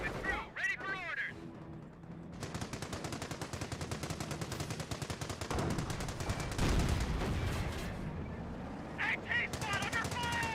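Rapid gunfire and machine-gun bursts in the video game Company of Heroes, dense and loud for most of the stretch, with brief voice-like sounds at the start and end.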